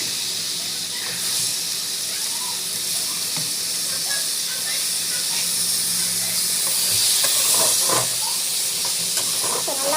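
Raw plantain sautés in a hot pan, a continuous sizzling hiss close by with scattered scraping and stirring clatter over it.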